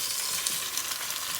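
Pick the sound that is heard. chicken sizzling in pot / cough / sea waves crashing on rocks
chicken sizzling in pot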